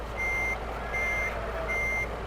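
Reversing beeps from a truck in Euro Truck Simulator 2, three steady evenly spaced tones repeating over a constant engine-like hum, clear and close with no talk.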